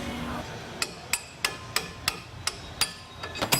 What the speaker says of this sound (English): Using a chisel just in between the yoke and the drive shaft itself, just to make it a little easier to move out.